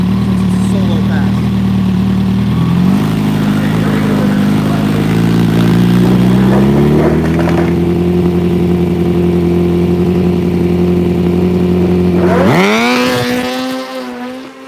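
A drag racing motorcycle on a solo qualifying pass at a big motorcycle drag race, engine note climbing loud and steady through several gear steps before cutting off abruptly near the end, with an announcer talking over it.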